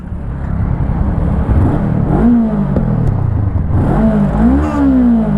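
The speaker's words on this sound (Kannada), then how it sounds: "ಎಕ್ಸಾಸ್ಟ್ ಈ ಥರ ಕೇಳಿಸುತ್ತೆ" A 2024 Honda NX500 motorcycle engine fires up and its exhaust revs in rising and falling sweeps, loud and close, with no voices over it.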